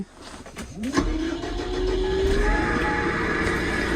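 A farm tractor engine is started: a short cranking whine from the starter, then the engine catches and settles into a loud, steady idle close by.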